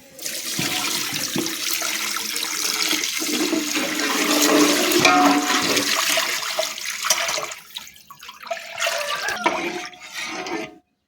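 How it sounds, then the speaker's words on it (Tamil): Water gushes and splashes steadily into a cooking pot at close range, filling it for rice porridge, then tapers off into trickles and stops. "இப்போ நம்ம கஞ்சிக்கு தேவையான தண்ணி ஊற்றிக்கலாம்"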